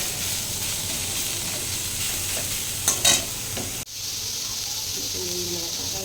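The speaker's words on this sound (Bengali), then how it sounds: "তারপর এখানে আমি কেটে রাখা পেঁয়াজ কুচি এবং লঙ্কা কুচি দিয়ে বেশ লাল করে ভেজে নেব।" Chopped onions and chillies fry with ginger-garlic paste in a pan for a scrambled egg dish while being stirred. A constant close sizzle hisses throughout, with scraping stir sounds and a brief clatter midway.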